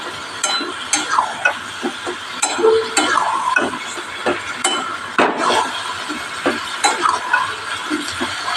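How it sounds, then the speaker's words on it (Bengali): Potatoes and pointed gourd with yogurt are sautéed in a pan, with loud, close, rhythmic scraping and clanking of a utensil against metal over a soft frying hiss. "এবারে আমি আলু আর পটলটা ঢেলে দিলাম। এবার এটা ভালো করে একটু কষিয়ে নেব।"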